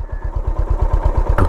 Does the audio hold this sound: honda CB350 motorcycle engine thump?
yes